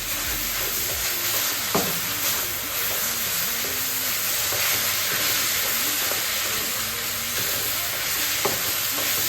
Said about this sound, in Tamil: கொஞ்சம் தூள், எடுத்து வச்ச இஞ்சி எல்லாத்தையும் போட்டு இனி கலக்குங்க